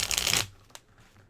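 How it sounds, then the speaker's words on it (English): A deck of tarot cards is shuffled in a quick riffling burst lasting under half a second, followed by a faint tap, heard up close in a quiet room. "Didn't want to shuffle for a second."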